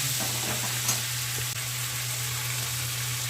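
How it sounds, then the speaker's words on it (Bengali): Chopped tomatoes sauté in a pan for a cabbage dish, a continuous close sizzle with only faint stirring, steady and even throughout. "দিয়ে দিচ্ছি দুটো কুচিয়ে রাখা টমেটো দিয়ে ভালো করে এটাকে কষিয়ে নিতে হবে"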